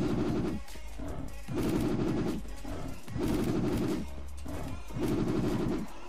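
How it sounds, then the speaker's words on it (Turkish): Automatic gunfire in the online shooter Wolfteam comes in three long, loud bursts separated by brief pauses, each a rapid rattle of shots, with a player's voice faintly present between them. "Sıkıyorlar."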